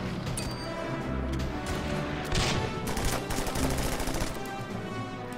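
Tank cannon fire and battle noise from the Order of Battle strategy game, a dense wall of gunfire-like bursts and crashes running continuously at steady loudness with no clear single shot standing apart.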